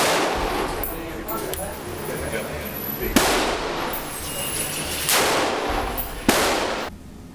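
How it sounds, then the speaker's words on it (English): An H&K 53 rifle fires several sharp, loud shots at a shooting range, spaced a second or two apart with short echoing tails, over steady background noise. "so of course I had to shoot the H&K 53"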